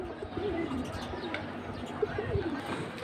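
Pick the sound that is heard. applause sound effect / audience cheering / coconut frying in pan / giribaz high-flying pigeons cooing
giribaz high-flying pigeons cooing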